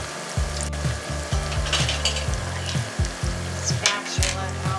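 Salmon croquettes frying in hot oil give a steady, close sizzle with repeated low scraping knocks of a spatula against the pan, with no talk.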